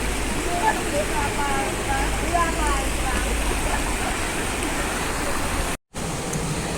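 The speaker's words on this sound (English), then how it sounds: "Garden Town Waterfall River, everything in a one." A river waterfall roars in a steady broadband rush throughout, loud and close, with a brief dropout near the end.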